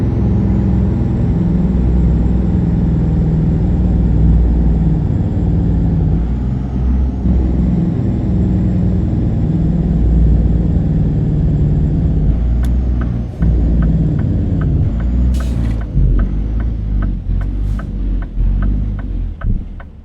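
Truck in American Truck Simulator hauling a Krone Swadro through Southern Arkansas, giving a loud steady engine drone with a constant low hum, later broken by shifts and a run of sharp clicking ticks.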